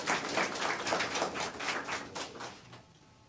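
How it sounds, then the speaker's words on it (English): An audience at a fire department awards and recognition ceremony claps in a dense, steady wash of applause that gradually tapers off, with no talking over it. "so let's give them a round of applause."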